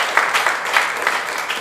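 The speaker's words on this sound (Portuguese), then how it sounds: "queria uma salva de palmas para os dois" Applause for two people at a Brazilian event on martial arts, brief and moderately loud, a dense patter of clapping hands from an audience with no talking over it.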